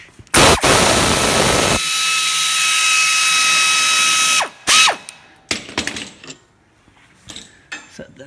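A ratchet with an 8 mm ball socket works the caliper bracket bolts on a Dodge rear brake, giving a loud, close, sustained mechanical whir and rapid clicking, then a few shorter bursts of clicking and clanks.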